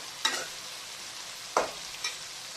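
Chicken fry masala in hot oil in a pan, with a few brief sizzling bursts as it is stirred, faint and close, with quiet pauses between.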